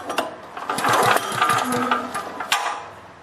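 A generator engine is cranked over by its pull-start cord without firing, giving a short run of rapid chugging compression strokes with a quick mechanical clatter at the start and end.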